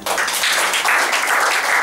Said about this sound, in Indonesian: Tepuk tangan begitu